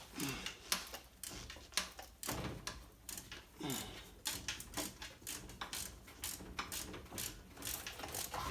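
A ratchet turns a 14mm short socket on an alternator bolt of a Toyota MR2 Turbo SW20, giving faint, rapid clicking in repeated uneven strokes with occasional metallic knocks and no talking.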